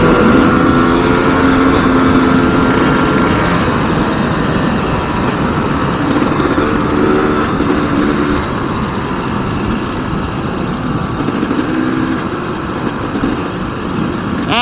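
A GasGas EC300 two-stroke dirt bike engine drones loud and steady throughout while riding, with a dense, continuous roar that shifts slightly in pitch.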